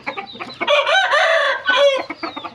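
Young Thai Koi game roosters, a group of five or six penned together, crow loudly and cluck nearby, with long drawn-out crows broken by short clucks.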